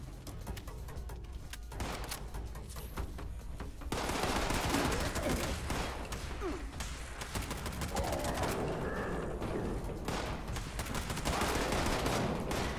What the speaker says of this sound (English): a 70 bullet mag and I've just gone through it